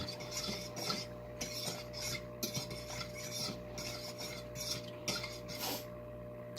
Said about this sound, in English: We'll take a stirring device and we will stir and get everything going good in here.